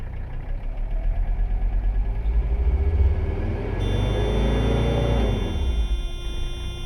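A Mercedes 300CD engine, boosted to about 2 PSI at 3,000 RPM, rumbles steadily up close, then swells as it revs up and eases back down, with no talking over it.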